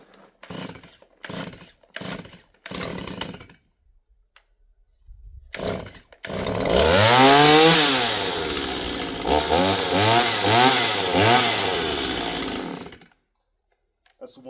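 Stihl MS 170 chainsaw run on ethanol-free premixed gas: a few sharp pull-start tugs, a brief pause, then the engine catches and roars loudly, revving up and down in waves before cutting off abruptly.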